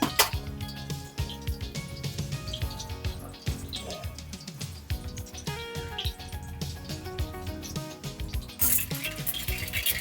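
Mustard seeds crackle and pop in hot oil in a pan while cooking soft muthiya, a dense, continuous patter of small clicks with faint utensil clinks, no voices.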